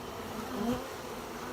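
Honey bees from a hive removed from house floor joists in League City, Texas, buzz in a steady, fairly faint drone that swells slightly midway, with no talking.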